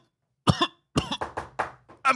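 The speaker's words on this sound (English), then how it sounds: "I'm coughing" One person coughs close up, a sharp single cough followed by a run of four or five quick, rough coughs, with brief silence between bursts.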